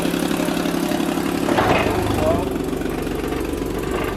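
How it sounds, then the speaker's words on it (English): A 2013 Jeep Wrangler engine idles with a bad exhaust leak, running steady and loud and close by. It picks up briefly midway, then settles back to a low rumble. "Bad exhaust leak."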